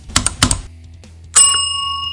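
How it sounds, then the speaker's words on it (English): Notification bell sound effect, two quick clicks followed by a bright, ringing chime that sustains and slowly fades. "ring the notification bell"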